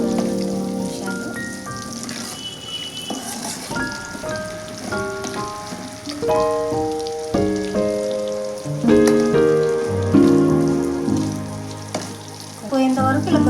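Onions soften in oil in a pan with a continuous close sizzle, partly masked by melodic background music playing throughout.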